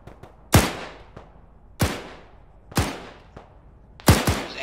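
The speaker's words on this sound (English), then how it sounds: "anti-air fire coming out of the valley to the west-southwest distance" Anti-air guns fire in a video game: four loud, sharp blasts, each with a ringing tail that fades, spaced roughly a second apart and heard alone.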